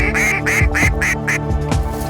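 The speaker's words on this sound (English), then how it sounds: "Pair ducks right here." Mallard ducks, including drakes, quack in a rhythmic run of loud, close calls on public hunting land, with about seven or eight quacks in quick succession and no talk over them.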